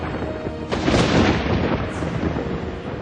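A loud thunderclap from lightning bursts out, then rolls into a broad, sustained rumble that fills the short stretch without any voices.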